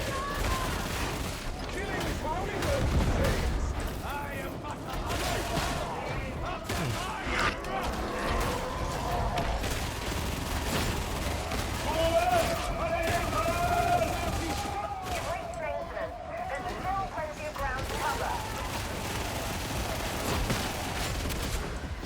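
Sustained gunfire from the Tempestus Scion Veteran Sharpshooter build in Warhammer 40K: Darktide, a dense, continuous battle din of shots and blasts carrying through the whole stretch, with talk over it.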